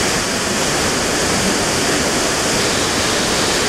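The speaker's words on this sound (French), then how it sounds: "on va s'approcher de la cascade tout doucement" A waterfall in Tongariro National Park, New Zealand, roars in a loud, unbroken, even wash of rushing water heard close up, with no voices.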